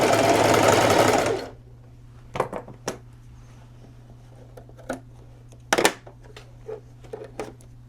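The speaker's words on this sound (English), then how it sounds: "And you're just gonna sew it from one point to the other." Sewing machine stitching a crochet blanket into pants, a dense close whirring burst for over a second, then stops, followed by scattered small clicks and handling noises over a low steady hum.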